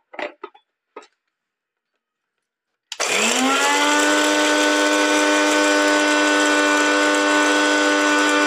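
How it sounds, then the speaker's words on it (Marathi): After a few brief clatters and a pause, a mixer grinder starts up and runs loudly and steadily, grinding roasted masala. "आता आपण मिक्सरला बारीक करून घेऊया"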